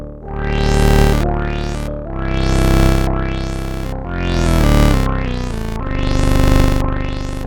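Sweeping electronic tones from a Moog Subsequent 37 analog synthesizer with bright rising filter sweeps, repeating in a looping pattern every second or so, loud and sustained with no voices.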